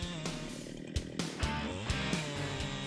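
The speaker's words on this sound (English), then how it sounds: "people always rely on the power of the Husqvarna 395 XP chainsaw" A Husqvarna 395 XP chainsaw cutting through a rain tree near rice fields, loud steady engine roar with sharp bursts as the chain bites the wood.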